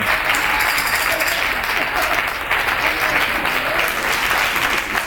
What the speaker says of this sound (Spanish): pedir un fuerte aplauso para esta rondalla